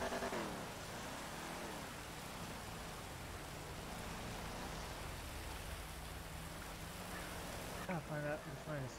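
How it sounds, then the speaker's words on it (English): Rain falls steadily outdoors in a faint, even hiss with a few quiet background sounds at the start and end. "Maybe this rain will stop soon."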